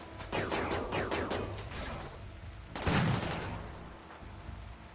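Gunfire in the video game Rimworld: a rapid burst of about eight automatic shots, a short pause, then a heavier blast that fades out, loud and without speech.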